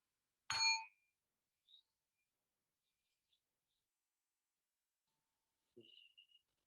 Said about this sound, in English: at the sound of the bell, just breathe deep